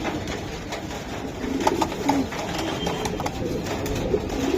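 Pigeons kept for sale, including silver Giribaz birds, coo softly in a loft amid a busy hiss of background noise, and a few louder calls rise briefly while a voice talks faintly now and then.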